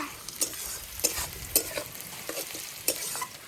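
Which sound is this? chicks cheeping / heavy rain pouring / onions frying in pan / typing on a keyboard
onions frying in pan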